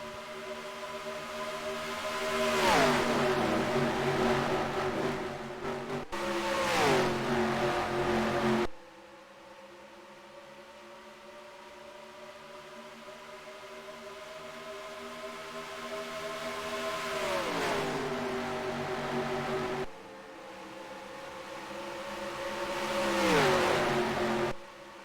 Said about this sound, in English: Truex Jr. takes the lead on lap 4